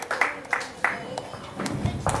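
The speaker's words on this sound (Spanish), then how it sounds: "Dele aplausos al Rey" A few scattered handclaps, spaced about every half second, with voices murmuring underneath.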